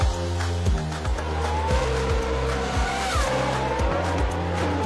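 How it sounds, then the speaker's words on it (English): A Formula 1 race car screams through a crash, its engine note stepping down in rapid, rhythmic gear changes under a continuous tire squeal and skid, loud and close. "that's a big accident for Kubica, and a horrible accident going on there"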